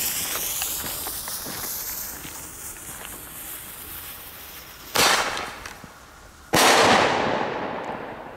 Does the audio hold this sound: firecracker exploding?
yes